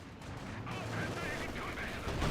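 An artillery barrage in Company of Heroes 2 lands as a dense, continuous rumble of explosions with crackling debris, fairly loud and layered under a voice speaking over it.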